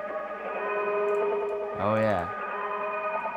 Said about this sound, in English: A part of the sample that was reversed, just the guitar track.